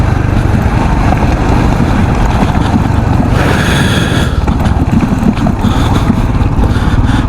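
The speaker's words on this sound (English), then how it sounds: "Off-roading is fun in Scram 440." Royal Enfield Scram 440 motorcycle ridden off-road, a loud continuous engine drone heavily buffeted by wind rushing over the microphone, with a brighter surge of noise midway.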